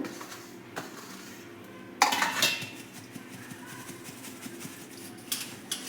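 Coriander and cumin are sieved together into one metal vessel, with soft scraping and a sharp clattering burst of utensil against pot, then scattered light clinks.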